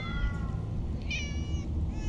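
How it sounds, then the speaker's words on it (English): Several cats meow in the Minecraft Story Mode video game, a few high, drawn-out calls over a steady low background hum, with no talking. "So many cats."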